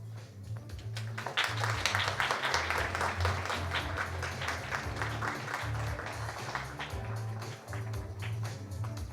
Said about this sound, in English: please give another round of applause to welcome all three panelists, all three guests of honor up on the stage